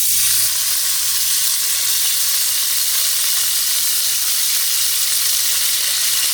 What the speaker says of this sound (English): Drop cumin seeds in hot oil, let them crackle a little, and then carefully drop the chicken slices.